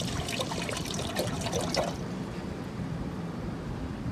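Water is poured from a plastic bottle into a pot to make a brew at a beach camp near Gisborne, New Zealand, giving a steady close-up trickling splash that eases off after two seconds.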